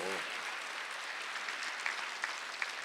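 A church congregation claps during a Sunday worship sermon, a steady, fairly faint patter of many hands lasting a few seconds with a voice briefly heard at the start.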